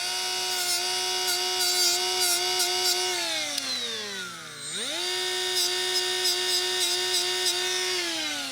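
A power tool grinds a flat spot onto rivet heads during a lathe teardown, giving a loud, steady high-pitched whine that bogs down and dips in pitch midway, then recovers to full speed, with no talk.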